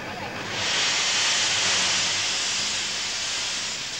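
Steam locomotive on an Australian railway releasing a loud, sustained hiss of steam that swells in after a moment and holds steady, close by.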